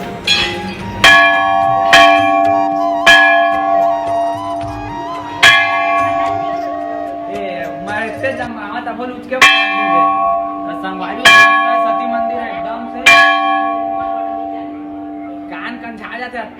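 A large temple bell at Sati Mandir in Janjgir, Chhattisgarh, rings out repeatedly in slow, uneven strikes, each tone ringing and decaying, while someone speaks between the chimes.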